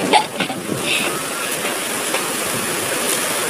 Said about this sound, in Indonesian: Gede banget anginnya.